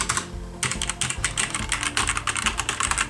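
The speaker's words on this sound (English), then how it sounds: "the spacebar usually in mechanical keyboards is always the loudest" Razer BlackWidow Tournament Stealth mechanical keyboard clacks under rapid, steady typing, dense close keystrokes with a few deeper, heavier strikes as keys bottom out, no voices.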